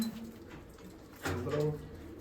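Old pigeons coo in a kept loft, soft low throaty calls with a louder burst midway, close by, with faint voices in the background.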